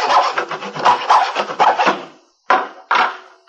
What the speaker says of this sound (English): he was sawing on a piece of plywood with a hacksaw